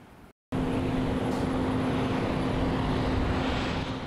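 Airplane landing at Sea-Tac Airport, heard as a loud steady roar of engine and wind noise with a sustained low hum, starting abruptly after a short gap and holding constant to the end.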